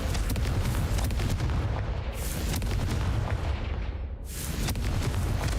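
A Confringo fire spell goes off in the game Hogwarts Legacy as a loud, dense burst of booming, crackling blast noise. The explosive roar fills the whole moment and swells twice over its length, with no voice heard.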